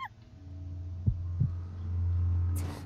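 A heartbeat sound effect in the horror game Amnesia: The Dark Descent, two soft low thumps followed by a swelling low hum, heard alone over dark ambient game sound.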